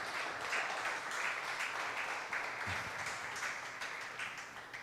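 A church congregation claps during a Spanish-language sermon, a fairly quiet, continuous wash of hands heard from a distance that holds steady and fades slightly at the end.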